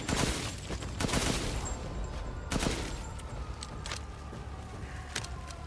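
Assault rifle firing in the horror shooter Resident Evil Village, rapid cracking shots in uneven bursts with a few louder blasts, trailing into scattered lighter clicks and clatter.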